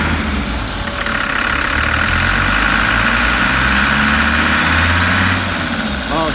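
Mercedes W123 with the OM617 diesel engine, running on a new injection pump, accelerates through the gears. A loud, steady, close engine drone with no talking.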